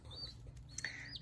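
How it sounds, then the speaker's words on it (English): Faint, high chirps from baby turkeys and bantam chicks: a few short peeps near the start and a brighter cluster toward the end over a low, steady background hum. "a video all about our new baby chicks"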